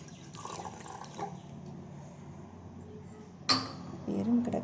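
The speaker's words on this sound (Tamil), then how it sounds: "அடுத்து பார்த்தீங்கன்னா 2 டம்ளர் தண்ணி ஊற்றிக்கலாம்." Water streams into a pot of milk being readied for tea, a steady close pouring splash with a brief clunk of the vessel near the end.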